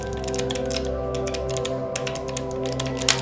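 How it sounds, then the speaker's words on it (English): Typing on a Keychron K8 Pro mechanical keyboard with blue switches gives a steady run of sharp, clicky keystrokes, close and fairly loud, with a slightly harder strike near the end. "blue switches have a very clickety-clack kind of sound."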